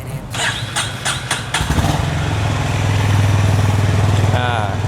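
A classic CB350 motorcycle with its standard exhaust fires up with a few sharp blips, then settles into a steady, low rumbling idle close by.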